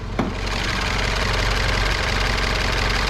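A MINI Cooper engine, just back together after cooling system repair work, runs steadily at idle, a loud, dense, continuous mechanical drone with a faint rhythmic knock and no voices over it.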